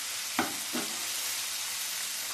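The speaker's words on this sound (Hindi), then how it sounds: "टमाटर को भी जीरे के साथ मिक्स करेंगे" Chopped tomatoes being stirred with cumin in a hot pan, giving a steady loud sizzle with two brief scraping stirs near the start.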